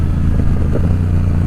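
A Yamaha R7 motorcycle engine droning at steady revs with a brief blip around a downshift, a low, loud, continuous rumble heard close from the rider's position.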